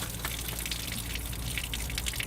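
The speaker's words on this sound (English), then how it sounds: "the water's now stopped coming out the pressure relief valve" Water gushes steadily from the pressure relief valve of a Worcester 35CDI combi boiler, a continuous broadband rush with no talk.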